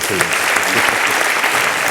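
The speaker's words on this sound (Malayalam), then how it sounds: "അതിന് ഒരു കൈയടി ആദ്യം കൊടുക്കാം" A crowd applauds with steady, dense clapping that continues for about two seconds, with a voice faintly underneath.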